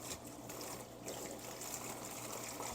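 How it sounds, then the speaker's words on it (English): Water poured over a dry coconut fiber substrate block, a steady soft trickling and splashing wash that runs throughout without pause. "when you add water to this coconut fiber, it expands."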